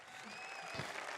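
Canned applause played from a soundboard, a faint wash of crowd clapping in the background of a recorded talk show, brief and low in level.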